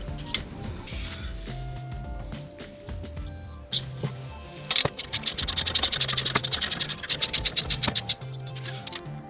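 Bolts being loosened on a brake caliper of a BMW E90 sedan, with metallic scraping and handling clatter, then a close burst of rapid ratcheting clicks from a wrench.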